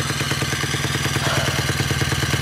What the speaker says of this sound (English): I've set the idle up because I need to leave the engine running